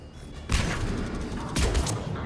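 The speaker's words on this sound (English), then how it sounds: "Here, have a grenade, fellas." A grenade thrown at enemies in the video game Mass Effect 3 goes off as two loud, close, booming blasts about a second apart, each a broad burst that decays into a rumbling tail.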